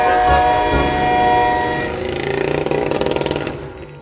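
Freight train rushing past in a GTA video game: loud horn-like sustained tones and heavy rumble giving way to rapid rhythmic rail clatter that fades as it passes.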